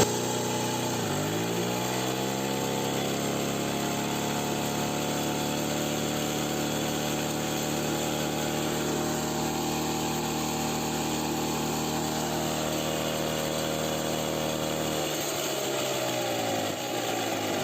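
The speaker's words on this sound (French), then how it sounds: "J'accélère à fond maintenant." Motobécane AV85 moped engine under full throttle during a service check, revving up sharply from idle into a loud, high, buzzing two-stroke whine that holds steady for many seconds before dropping back down.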